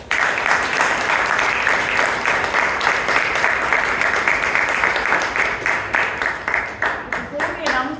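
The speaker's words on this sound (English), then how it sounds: "have a big round of applause for all the role takers." An audience at a Bangalore Toastmasters club meeting gives a steady round of applause lasting several seconds, dense and loud, gradually thinning toward the end.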